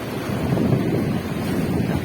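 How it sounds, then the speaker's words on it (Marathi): Rough monsoon sea at Alibag, with a steady low roar of churning waves and surf mixed with wind buffeting the microphone, continuous and fairly loud, no voices. "पूर्ण समुद्र आपल्याला रौद्र रूप घेतलेला दिसतोय"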